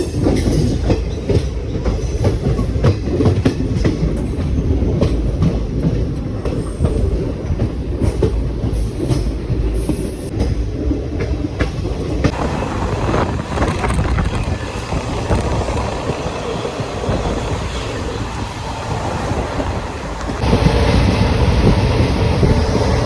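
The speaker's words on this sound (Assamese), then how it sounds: "ফাইনেলি আমাৰ ট্ৰেইন আহি গ'ল আমি যাত্ৰা আৰম্ভ কৰিব ওলাইছোঁ" A moving passenger train rumbles loudly and continuously from inside the carriage, with rattling wheels and a shift in the roar partway through, during a 20-minute ride in Assam.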